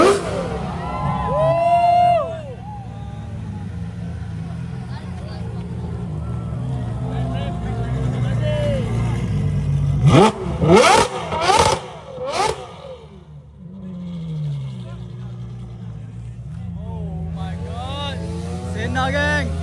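Supercars including a McLaren Senna roll into a car show, engines rumbling and revving over a chattering crowd, with a burst of loud sharp blips midway and people talking throughout.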